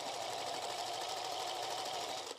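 A sewing machine stitches in one continuous, even whir, close and steady, with no talking.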